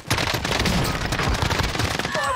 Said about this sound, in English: I'm getting shot from the hill.